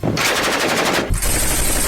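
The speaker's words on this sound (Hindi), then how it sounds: "बाद में मशीन गन से भी समंदर में दुश्मन को ढेर करने का अभ्यास किया गया।" A Ukrainian machine gun fires into the sea during a drill, loud rapid bursts close by, a short break, then another rattling stretch of fire.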